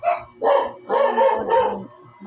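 A dog barks several times in quick succession, close and loud, with short pauses between the barks.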